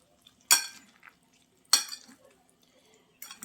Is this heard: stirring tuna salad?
yes